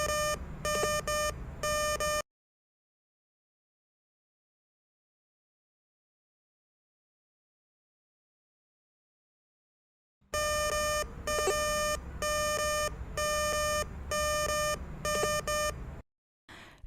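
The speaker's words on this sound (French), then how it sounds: "Lorsqu'un signal de métal précieux est détecté, l'appareil émet un son" VLF electromagnetic metal detector emitting rapid, repeated electronic beeps on a precious metal signal, two bursts separated by a long silence, loud and close with no voices.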